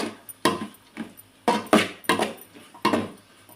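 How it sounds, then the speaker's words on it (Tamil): Chopped capsicum is stirred in a pan with a spatula, giving irregular scraping clatters and knocks spaced a fraction of a second apart, close and moderately loud. "மிக்ஸ் பண்ணி இது மாதிரி நல்லா வதக்கி விடலாம்."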